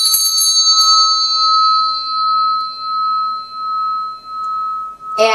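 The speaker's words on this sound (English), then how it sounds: "So here's your bell." A hand bell struck once at the start, its bright ring sustaining and slowly fading for about five seconds, with a brief clatter at the very end.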